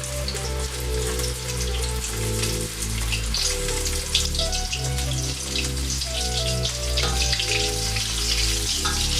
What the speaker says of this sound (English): I'm gonna put them all back in the fryer again.